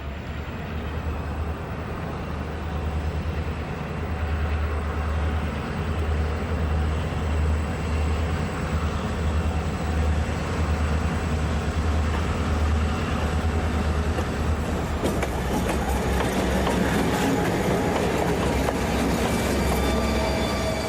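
A train on a rail line approaches with a steady low rumble that swells gradually, then grows rougher with rattling and clatter as it draws near, with no talk over it.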